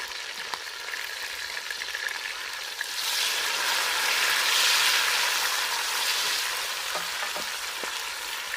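Tomatoes hit browned onions frying in a pan, and the sizzle swells into a loud, steady hiss that holds for several seconds before easing, with a few light stirring scrapes near the end.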